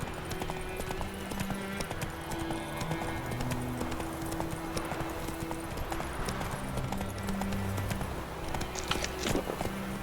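Roach, the horse in The Witcher 3, gallops with continuous, close, rhythmic hoof clip-clops over ambient game sound, with a short snort or whinny near the end.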